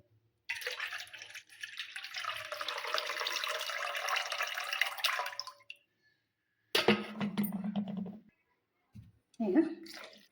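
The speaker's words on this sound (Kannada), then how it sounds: "ಮತ್ತೆ ನೀರು ತೆಗಿತೀವಿ ನೋಡ್ರಿ." Butter being washed for homemade ghee: water pours and splashes steadily for about five seconds as it is drained from the bowl, followed by someone talking in short bursts.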